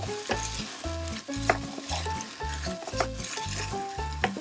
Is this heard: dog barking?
no